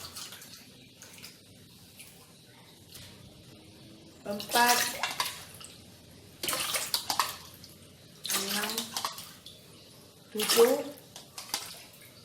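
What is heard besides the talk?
water poured into rice cooker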